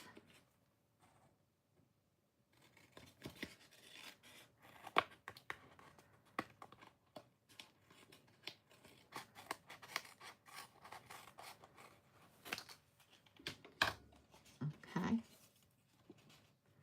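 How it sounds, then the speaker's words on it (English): Scissors snip through cardstock while trimming a rolling waves card panel, a quiet run of short, uneven cuts and paper rustles with a few sharper snips near the end. "So I'm actually going to cut off."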